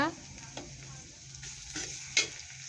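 Ginger and garlic paste sizzles with already fried onions in hot oil in a home kitchen, a soft steady fry broken by a few brief stirring scrapes, close and fairly quiet with a low hum underneath.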